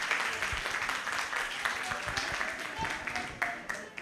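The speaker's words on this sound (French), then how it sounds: "Applaudissements s'il vous plaît pour Treichville." A crowd at a youth competition event in Treichville applauds with scattered, uneven claps and a few sharper hand strikes, while voices keep talking underneath.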